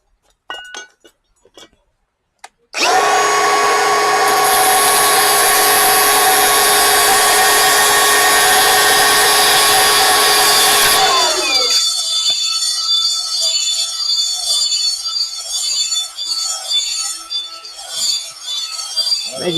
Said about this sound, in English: I'll just kick it with the die grinder a little bit to open up the